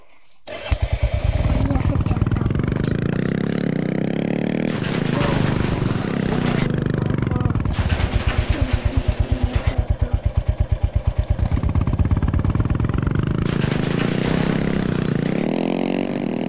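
A motorcycle engine in the mobile game Indian Bike Driving 3D starts up and then runs loud and continuous, revving up and down with a rattling, clattery tone throughout.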